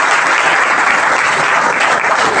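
Loud, dense audience applause for the teachers at a coaching-class gathering, a continuous close wash of many hands clapping with no voices on top.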